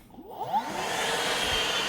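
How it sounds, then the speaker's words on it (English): A Milwaukee vacuum hooked to a 3D-printed arrow saw spins up with a rising whine, then settles into a loud, steady rushing hum with no talk over it. "we have it tied to a Milwaukee vacuum"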